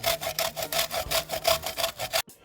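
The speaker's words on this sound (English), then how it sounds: "So we're grating about half of the koko" Rapid rhythmic rasping as cocoa is grated back and forth on a grater for Samoan koko esi, about a dozen strokes, close and loud, then it stops.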